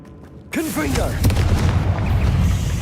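A Confringo blasting spell explodes in Hogwarts Legacy: a sharp onset followed by a loud, sustained fiery rumble and crackle, with a voice briefly over it.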